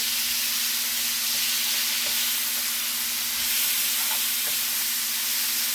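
Steady, close sizzle of bulgogi beef frying in a hot pan, a continuous crackling hiss with no voices.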